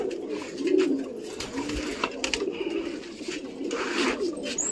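A flock of pigeons coos repeatedly at close range while being fed from plates in the morning. The low, throaty calls overlap against light shuffling and flutter, with no talking.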